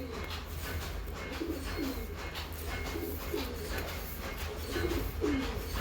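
Pigeons coo repeatedly in a loft where their wings are being freed during training, soft rolling calls recurring every second or so over a steady background hum.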